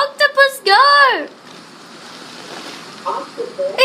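Strong wind in a big storm roars as a broad, steady rush for a couple of seconds, framed by a voice talking loudly before and after it.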